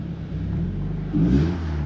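A Scion FR-S revs, its exhaust note a deep throaty rumble close by that swells into a louder surge partway through the short burst, with no one talking.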